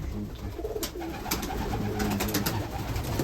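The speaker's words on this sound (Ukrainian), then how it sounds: "А голуб желтый." Pigeons coo in a breeding loft, soft repeated rolling coos from several birds close by over a steady background hum, with wing flutters and scratches mixed in.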